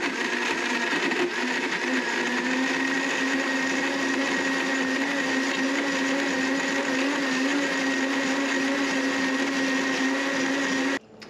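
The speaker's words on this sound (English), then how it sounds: "put our BlendTech blender to work" A Blendtec blender makes a smoothie at high speed for about eleven seconds, a steady loud motor whine churning contents, peaking around 1100 watts, before cutting off abruptly.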